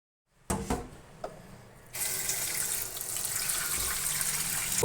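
A kitchen tap gushes into a sink to wash half a kilo of fresh fenugreek leaves, a steady loud hiss of running water starting after a few clicks and clatters of handling.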